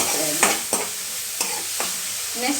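Green chilli, tomato and onion fry in a pan for a Mangalore-style prawn curry, with a soft steady sizzle broken by four or five close scraping stirs.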